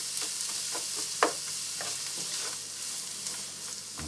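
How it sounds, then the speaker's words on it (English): Onions fry in a hot pan on a plug-in hob, giving a steady close sizzle broken by soft stirring scrapes and a single sharper clack, with no talking. "we need to start getting the onions fried off"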